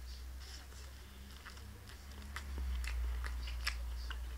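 Soft, quiet crunching bites and chewing of a milk-mousse-filled sweet bun, heard close up as a few faint crisp bites over a low room hum.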